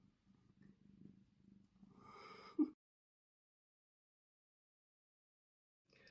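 A cat purrs softly and close by for about two seconds in a steady low rumble, then a brief breathy sound follows before the clip falls silent.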